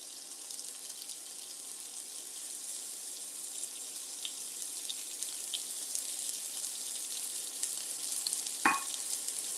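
Steady, faint crackling sizzle of food frying in a pan, a continuous hiss with a brief clatter near the end.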